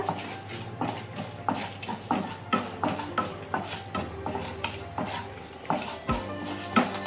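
Dried red chillies frying in oil in a pan for an ivy gourd stir-fry, a steady sizzle with rhythmic stirring scrapes of a spoon repeating about every half second, no talk.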